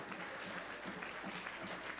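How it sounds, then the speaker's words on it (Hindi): An audience claps together at a talk by Pandit Vijay Shankar Mehta, steady overlapping applause at moderate volume throughout the short stretch. "अब बजाइए ताली दोनों मिलके"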